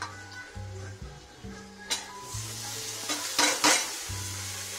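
Onion, garlic and mixed vegetables sautéed in a pan for white sauce pasta, with a steady sizzle and repeated stirring scrapes throughout, clattering louder near the end, close and alone without talk.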